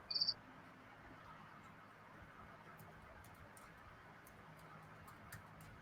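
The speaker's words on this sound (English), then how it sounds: "I can hear the crickets." Crickets chirp faintly in short high repeated pulses through a computer connection, over a low background hiss, with a brief sharp chirp at the start.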